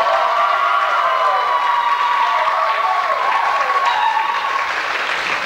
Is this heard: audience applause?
yes